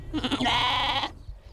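Sheep bleat on a former airport field now grazed by a flock of about 100, a single close, loud, wavering bleat about a second long that fades into quiet outdoor air.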